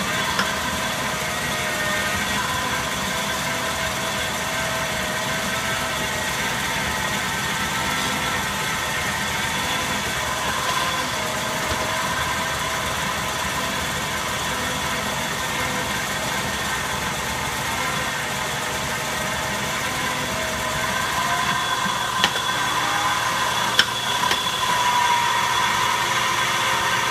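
A metal lathe cuts a spindle guard nut at a fine feed, giving a steady, continuous machining drone with a constant motor hum throughout and a few faint clicks near the end.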